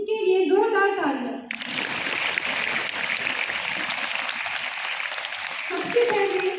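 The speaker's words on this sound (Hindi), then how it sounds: "इनके लिए जोरदार तालियां" A school audience at an investiture ceremony claps for former student leaders, sustained, fairly loud applause following a spoken announcement, with a voice returning near the end.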